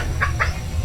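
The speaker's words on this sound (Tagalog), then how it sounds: "talaga mga manok ito." Chickens give two quick, soft clucks in succession over a low background rumble, with no voices.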